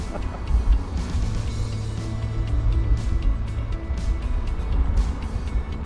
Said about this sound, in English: And listen to that engine sound.